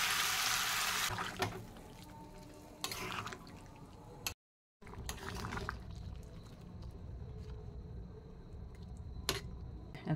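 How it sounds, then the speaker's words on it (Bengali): Water pours into a pan of frying prawn curry with potato and cauliflower, a broadband rush at the start that thins out, a brief silent break midway, then softer bubbling and clatter. "এখন জল দিয়ে দেবো"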